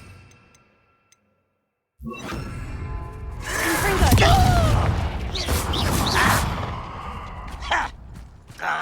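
In Hogwarts Legacy, an Incendio fire spell erupts after a short silence with a booming whoosh and crackling blasts. The burst swells, then stays loud with sharp impacts and voices mixed in.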